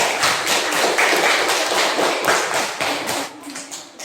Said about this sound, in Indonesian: Tepuk tangan untuk Claudio.